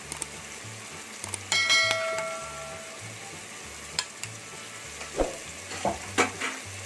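Mutton coated with ginger garlic paste, about three quarters of a kilo for biryani, stirred and fried in a pot. A spoon scrapes and clanks against metal over a steady sizzle, with a brief ringing metallic tone and a few sharper knocks near the end.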